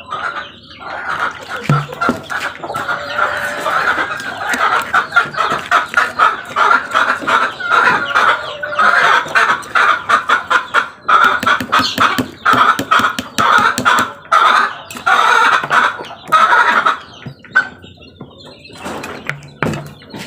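Backyard chickens cluck and call close by for a long stretch, their sounds mixed with dense rapid pecking and tapping noises, and occasional wing flaps and brief dog-like noises in the background.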